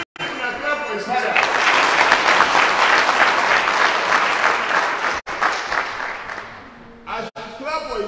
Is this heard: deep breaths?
no